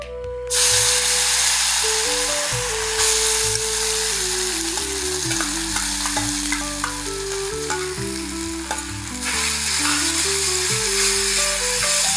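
Curry leaves and chillies crackle and sizzle loudly in hot oil for a Tamil pepper aval breakfast, a continuous close frying hiss under soft background music.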